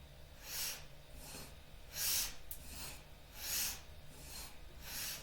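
Alternate nostril breathing during a guided relaxation session: slow, soft airy breaths in and out through one nostril at a time, repeating in an even rhythm roughly every second and a half, close and quiet.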